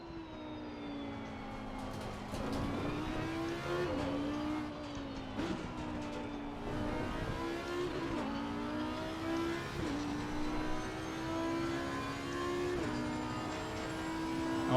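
A race car on hot laps in a racing video game, its engine droning steadily and rising and falling in pitch as it shifts through gears and brakes into corners, continuous and fairly quiet with no talk.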